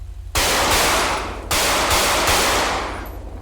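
Gunfire in a police roleplay video game: two loud sustained bursts of rapid automatic shots, each cutting in sharply and tailing off, close and with no talking.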